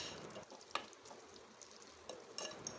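Masala being stirred in a pan after water is added, quiet and close, with soft wet scraping and faint sizzling broken by a few sharper spoon knocks.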